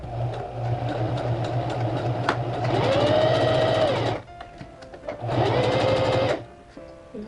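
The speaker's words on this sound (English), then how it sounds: "I'm going to sew through all 3 layers of my crotch area" Sewing machine stitching through three layers of fabric at the crotch of handmade thong panties, a steady fast mechanical whir running in two long bursts with a brief pause between, close and loud.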